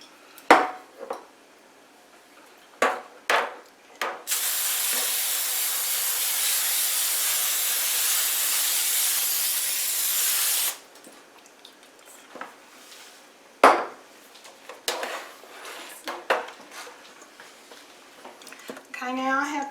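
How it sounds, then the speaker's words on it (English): A steady aerosol cooking spray hisses for about six seconds onto a 9 by 13 inch cake pan, close and loud, with a few clatters and knocks of the pan before and after. "I'm going to spray it first."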